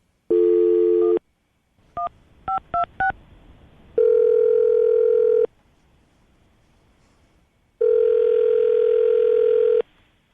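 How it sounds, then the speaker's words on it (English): A landline telephone handset gives a steady dial tone, then a quick run of keypad dialing beeps, followed by two long, loud ringback tones separated by a pause, clear and close with no talking. "So I'm about to dial her right now."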